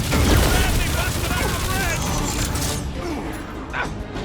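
Rooftop gunfire in the Guardians of the Galaxy action game, a continuous loud clatter of shots and blasts mixed with mechanical clanks, easing off near the end, with voices talking amid the fighting.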